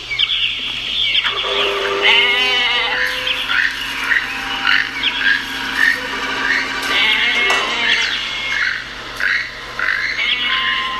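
A goat in a LEGO Jurassic Park scene gives repeated wavering bleats at close range over a low steady hum, the cries coming in bursts through the clip.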